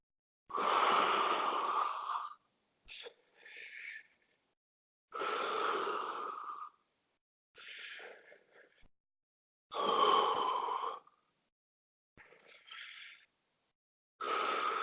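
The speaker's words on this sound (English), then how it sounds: "let me give you an example of that kind of breathing now" A person demonstrates long, deep breaths that fill the lungs completely, drawing in and releasing air in several distinct close-up breath sounds separated by brief silences, with no speech.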